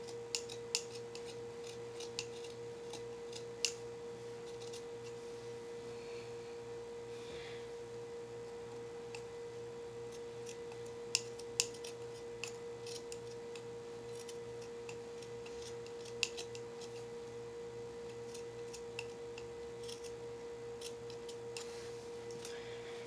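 Scissors trim fabric for a basic crop top, giving faint, sparse snips and clicks over a steady low electrical hum in a quiet room.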